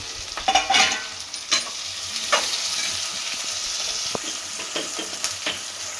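Onions and tomatoes fry in a pan, a steady low sizzle broken by a few scrapes and stirring clunks from a spatula, close and with nobody talking.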